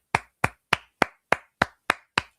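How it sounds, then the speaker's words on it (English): Hands clap eight times in an even, steady rhythm, each sharp clap close and distinct, with silence between them and no voices. "I applaud you"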